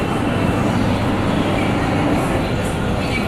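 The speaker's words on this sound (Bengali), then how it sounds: "মেট্রো ছেড়ে দিয়েছে এগোতে থাকি আস্তে আস্তে" A metro train pulling out of Master Da Surya Sen station, a loud continuous rumble and roar with a faint high whine on top, heard close from the platform.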